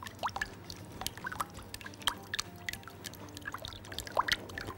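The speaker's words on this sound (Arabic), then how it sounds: "هنحط بقى زيت زيتون يقوم مظبط لنا ايه القوام بتاع الدريسنج" Olive oil trickles and drips into a beet and feta salad dressing in a home kitchen, a soft, quiet pour with small irregular splashes.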